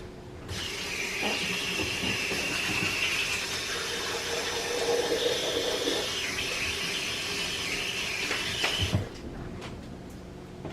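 Tap water gushes steadily while hands are washed at a home kitchen sink, a continuous close rush for about eight seconds that cuts off abruptly.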